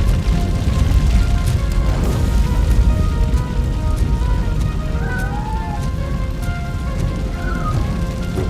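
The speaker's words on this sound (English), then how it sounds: "Fire is blocking the way" A fire roars and crackles in RoboCop: Rogue City, a dense, loud, steady rushing blaze with scattered pops, while faint tonal game sounds drift over it and no one speaks.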